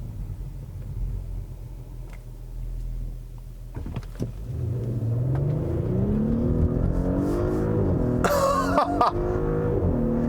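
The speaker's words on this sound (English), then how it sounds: "it has those nice little burbles and crackles and farting noises from the exhaust" 2018 Audi SQ5 SUV exhaust: a low engine rumble swells into a steady revving drone, with a brief sharp burst of crackle near the end, heard alone without talk.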